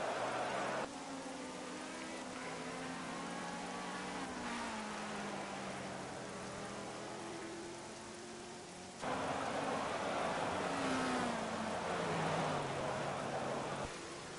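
Rain in the racing game Project CARS hisses steadily over GT3 race cars at the Nürburgring GP, whose engine notes rise and fall through gear changes beneath the downpour, with a sudden louder burst partway through.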